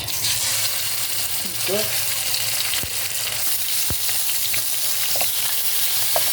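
Chicken frying in butter in a pan for a white olive tagine makes a loud, steady sizzle up close, broken by a few sharp spoon scrapes and clinks as it is stirred.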